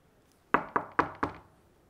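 Four sharp knocks strike a door in a quick, even series, close and distinct against a quiet background with no voices.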